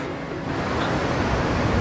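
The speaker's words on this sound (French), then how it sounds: "Donc là, on a une petite vue sur la cascade derrière." A small waterfall rushes in the background, a steady broadband wash of falling water that swells slightly louder partway through and continues without a break.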